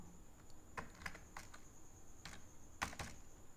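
PHP code is typed on a computer keyboard, a few quiet, sparse key clicks spaced irregularly over a few seconds, with a faint steady hum underneath.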